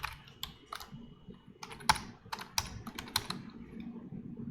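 Fast, irregular clatter of keys on a computer keyboard, close and steady with sharp individual strikes and no talking.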